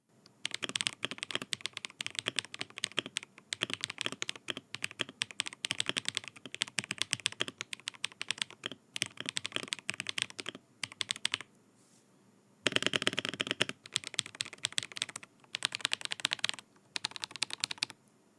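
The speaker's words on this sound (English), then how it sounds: "you can really kind of make this keyboard sound however you want it to" Close-up typing on a Redragon K708 Pro mechanical keyboard, fast bursts of clicky keystrokes with short pauses between them, no voices.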